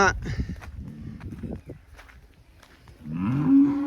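A cow moos loudly and close by at a farm, with a second deep, drawn-out moo near the end. Rustling, footsteps and livestock movement fill the gaps between the calls.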